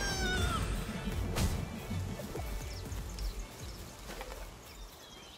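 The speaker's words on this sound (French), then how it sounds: "Il y a des petits chats d'ailleurs." Soft cat meows mixed into busy, cluttered sound effects from the PC game Palworld, with a few brief high calls near the start.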